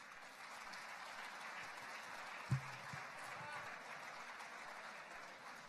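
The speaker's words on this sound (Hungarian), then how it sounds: "Nagy tapsot kérünk" Faint, steady applause from an audience at a nature photography award ceremony, a soft even wash of clapping heard from a distance, broken by one brief louder knock.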